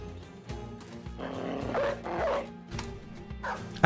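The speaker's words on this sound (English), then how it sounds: "I think the dog's got him." Dogs attack during a turn-based battle in the video game Battle Brothers, with growling, barking bursts and snarls rising and falling over a few seconds against game effects.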